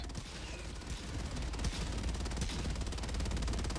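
EMS mortar firing repeatedly in Helldivers 2, a dense run of sharp booming reports and crackling bursts that grows louder and stays busy throughout.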